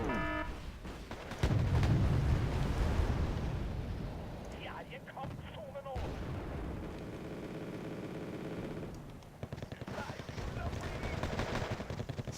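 Bomb strike from an F-16 Fighting Falcon landing on T-72 tanks in Wargame: AirLand Battle, a loud rumbling blast with crackling gunfire-like bursts that swells early then sustains, with talk running over the battle noise.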